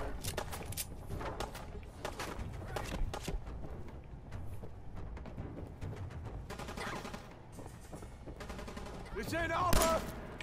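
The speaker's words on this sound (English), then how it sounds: "Who the fuck keeps on shooting me?" Rapid gunfire in the video game Fallout 4: dense, irregular volleys of shots spread throughout, with a sharper, louder shot near the end.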